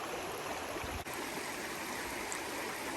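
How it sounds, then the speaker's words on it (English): A small stream of cool water flowing through lush countryside in Thailand, a close, steady broadband rush and babble that continues without a break. "I'd love my own private stream like this. It's nice cool water."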